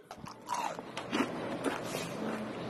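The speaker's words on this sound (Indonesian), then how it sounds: "coba kalian dengarkan suara cireng yang aku masak 5 jam yang lalu ya" Crunchy bites into cireng, a crispy fried tapioca snack cooked five hours earlier, several crisp crackles and chewing sounds close to the mic, with no talking.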